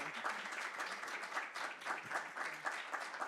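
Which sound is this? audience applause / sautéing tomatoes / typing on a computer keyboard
audience applause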